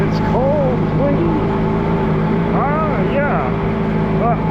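Allis Chalmers G tractor engine droning steadily as it drives through snow on a cold, windy day, constant and close; brief bursts of speech break in several times.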